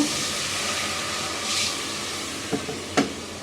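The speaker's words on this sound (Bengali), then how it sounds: "আমি একটু পানি দিয়ে দিব।" Water goes into a pan of frying garlic with turmeric, chili, coriander and salt, giving a steady loud hiss and sizzle, followed by two short clatters near the end.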